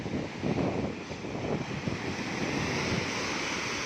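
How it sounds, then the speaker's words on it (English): Waves rushing up the shore at Calangute Beach, Goa, at night, a continuous close wash of surf with wind buffeting the microphone, the roar swelling and easing without any voices. "Here comes the water rushing to greet us in the darkness."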